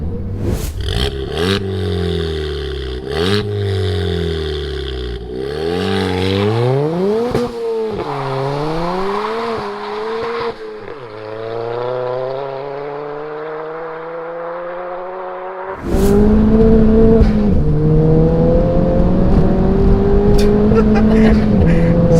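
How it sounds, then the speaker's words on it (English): Ford Fiesta ST tuned to 310 bhp with a turbo engine and raspy exhaust, heard while driving: loud revs climb and drop through several gear changes, then a hard surge of acceleration, with voices talking underneath. "the exhaust tone is really pronounced. It sounds so good. I love like a peppy sounding exhaust note. It's kind of raspy"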